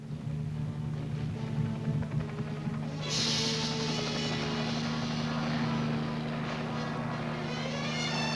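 Steady low rotor drone of a military helicopter carrying infantry, loud and continuous, with a brighter rushing wash of noise joining partway through.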